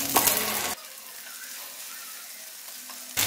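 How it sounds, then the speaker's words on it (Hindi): Shami kebab patties frying in a pan give a loud, close sizzle that drops to a softer steady hiss, then surges loudly again at the end. "अब हमने इसको तब तक फ्राई करना है जब तक दोनों साइडें जो हैं वो गोल्डन ना हो जाएं"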